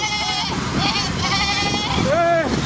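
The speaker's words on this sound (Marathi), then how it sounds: "हे पांडा आपलं हे बकरी." A goat bleats repeatedly, several wavering cries close by, with people talking in the background during the Sant Dnyaneshwar palkhi procession in Hadapsar, Pune.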